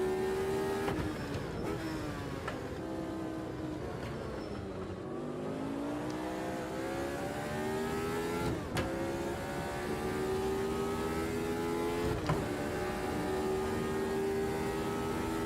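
A race car engine in the sim racing game Automobilista 2 revs and accelerates hard, with repeated gear shifts and rising pitch sweeps, loud and continuous with no talk.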